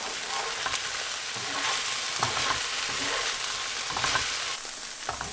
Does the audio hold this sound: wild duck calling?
no